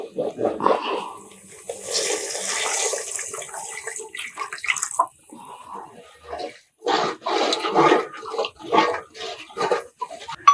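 Water pours into a pot of rice in a gushing stream for several seconds, followed by muffled clattering and handling noises nearby.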